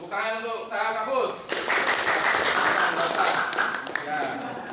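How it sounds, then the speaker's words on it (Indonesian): Classroom applause for a student after reading Quran aloud: a burst of clapping from a group of children lasting a few seconds, following and partly under a teacher's talk. "itu tepuk tangan untuk Sahal Kabut"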